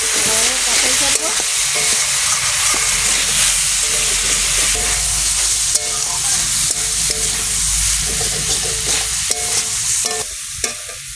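Vegetables for a vegetarian elephant foot yam dish, seasoned with salt and turmeric, sizzle loudly in hot oil in a pan, with the scrape and clatter of a utensil stirring through the constant frying hiss.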